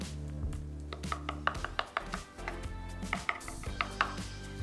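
A knife cuts holes in slices of bread on a board with a quick series of short crisp cuts and taps, set against a low steady hum in the kitchen, with no talk.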